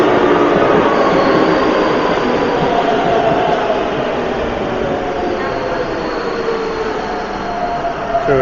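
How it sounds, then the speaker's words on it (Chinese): A Keikyu express train bound for Shinagawa runs through a station in Japan with a loud continuous rumble and rolling wheel noise, faint squeals rising over it, while a voice talks underneath. "这个是前往品川的急行啊，但并不是我坐的直达成田机场的这班车"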